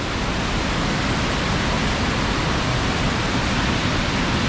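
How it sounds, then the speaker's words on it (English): The uppermost waterfall of the Falls of Clyde near New Lanark in Scotland gives a loud, unbroken roar of rushing water, dense and even from start to finish. "So this is the uppermost point of the"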